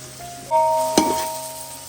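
Chicken and onion frying in a pan on a wood-fired chulha, giving a steady sizzling hiss with a single sharp clink of a utensil midway.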